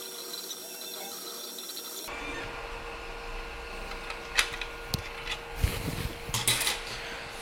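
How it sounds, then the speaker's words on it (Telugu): A laser engraver at work, a steady mechanical hum with faint fan whir and scattered ticks and clicks from the moving head, louder bursts later on, no voices. "ప్రస్తుతం అయితే ఒక లేజర్ ఎంగ్రేవర్ అనమాట"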